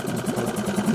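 A boat outboard motor idles while warming up on a riverbank during an autumn hunting trip, giving a faint, steady low chugging hum with an even rhythm throughout.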